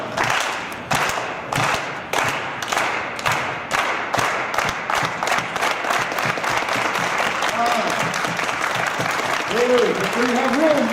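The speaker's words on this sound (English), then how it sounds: "So let's start slowly with the hand clap." Students clap their hands in a steady marching rhythm, about two claps per second, loud and close, during a Cesar Chavez march; a leader calls out counts over the clapping and a voice rises near the end.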